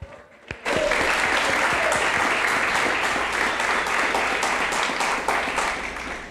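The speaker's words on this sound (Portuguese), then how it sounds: "Aplauda o rei." A church congregation applauds at a Sunday worship service, a dense, loud and steady wash of many hands clapping that swells in after a sharp opening hit and carries on for several seconds before easing slightly.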